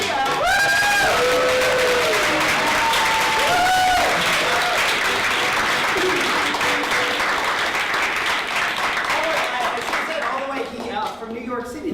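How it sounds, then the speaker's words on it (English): A live improv theatre audience breaks into loud applause with whoops and cheers as a guest is introduced, clapping dense and sustained for about ten seconds while voices shout over it, then thinning out at the end. "So, ladies and gentlemen, big round of applause for Cardiff Garcia."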